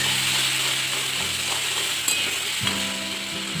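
Spice paste of turmeric, salt, garam masala and chilli powder fries in a pan after a splash of water, giving a close, even sizzle broken by a couple of soft utensil scrapes and clinks.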